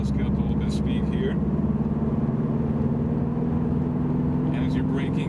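Interior of a Subaru car gaining speed, with a steady engine drone and road rumble throughout while a person talks over it.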